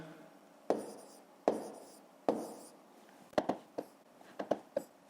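Pen or chalk writing numbers for long division makes a series of short, crisp taps and scratches, starting as three evenly spaced strokes and then quickening into a cluster of quick marks.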